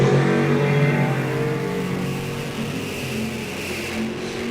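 Drag race cars, a 94 Camaro and a Vega, roar hard off the line at a drag strip, with loud sustained engine revving that rises and holds steady throughout, no talk over it.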